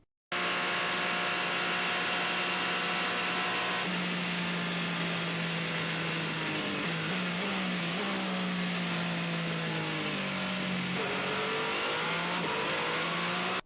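A 2018 Toyota TS050 LMP1 hybrid race car roars at steady high revs, then lifts and coasts, its engine tone dropping and wavering through downshifts as it slows into a braking zone.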